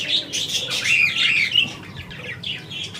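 Birds at a Sunday bird market in Korangi calling continuously, a close, busy mix of high chirps, squawks and twittering that rises and falls without talk.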